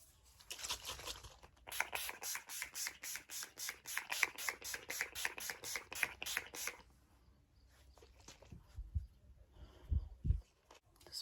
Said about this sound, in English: Just gonna spray my face with some all-nighter.